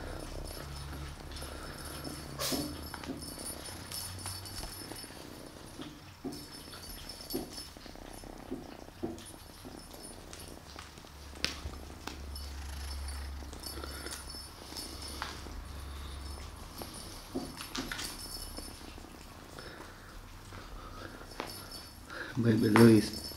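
Cats purr softly and continuously in a room full of cats at play, a low rumbling drone under occasional light knocks and movement, with a brief louder sound near the end.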